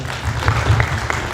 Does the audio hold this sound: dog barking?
no